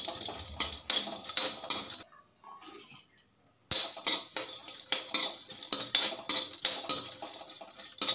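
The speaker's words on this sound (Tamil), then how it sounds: "வறுத்துட்டு முந்திரி லேசாக வறுக்கணும்" Cashews being lightly roasted in a pan, giving repeated light clinking and rattling scrapes in quick bursts, with a brief quiet pause partway through before the rattling resumes.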